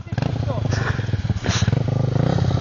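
Quad bike engine revving under throttle on an outdoor ride, a loud rough motor with pulsing revs, close by, while people shout and talk over it.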